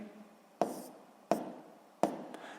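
Pen or pencil strokes on paper while jotting down an answer in a Grade 7 physics self-check task, three short distinct scratching bursts spaced evenly apart, close and fairly quiet with no talking.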